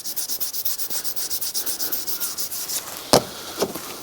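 Knife blade stroked across a fine white Shapton finishing whetstone in a steady rhythmic scrape, about a dozen even strokes, then a sharp tap and a lighter knock near the end; no talking.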